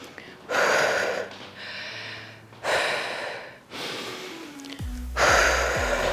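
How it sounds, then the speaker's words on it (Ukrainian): Heavy, loud gasping breaths close to the mic after a full-body functional workout circuit: four or five long, noisy inhales and exhales in an uneven rhythm, with short pauses between them. "Дихаємо."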